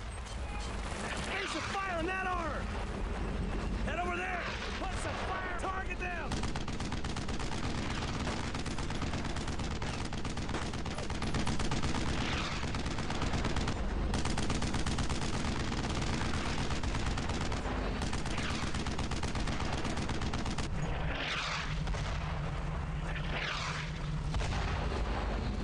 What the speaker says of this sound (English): He's shooting at them, but they're behind cover.